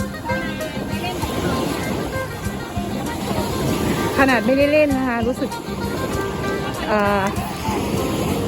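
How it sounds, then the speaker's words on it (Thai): Sea waves wash up on the sand at Bang Saen beach in Chonburi on a busy holiday. The steady surf and wind roar sits underneath someone talking close to the microphone throughout. "คลื่นมันซัดขึ้นมาค่ะ"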